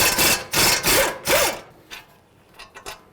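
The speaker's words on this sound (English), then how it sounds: "next we're gonna take off our caliper bracket bolts. They're 21 millimeter." A hand tool works loose the 21 mm caliper bracket bolts on a 2008-16 Chrysler Town & Country front brake, giving several close, loud rasping ratchet strokes in quick succession, then fainter clicks and scrapes.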